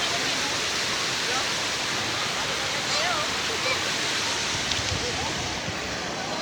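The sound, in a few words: river water flowing under a bamboo bridge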